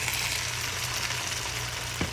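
Chicken pieces dropped into hot, oil-separated gravy for a Bangladeshi wedding-style chicken roast, giving a steady close sizzle with a faint thump near the end.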